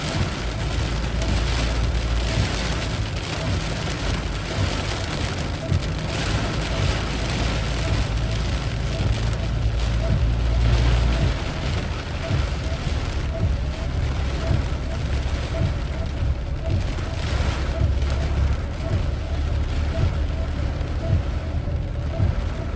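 Heavy rainstorm pours down in Vientiane, Laos, a steady, dense hiss of rain on surfaces with low rumbling underneath, continuous and fairly loud throughout.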